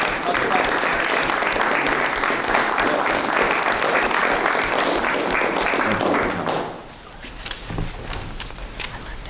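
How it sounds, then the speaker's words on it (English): A school committee meeting audience claps in a sustained round of applause for a student's parents, filling the room for about six seconds before fading out into quieter murmurs and a few scattered taps. "Can we get a round of applause for the parents?"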